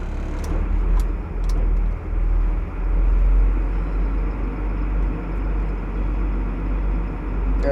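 A truck rolls onto a car ferry in the San Juan Islands, its engine a continuous low rumble with broad road and deck noise, steady and fairly close, with no voices.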